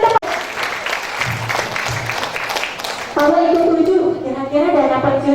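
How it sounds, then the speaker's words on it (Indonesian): Audience applause at a live event: steady, dense clapping for about three seconds, then a sustained tonal, music-like sound over continued crowd noise. "Tepuk tangan buat Anda semua."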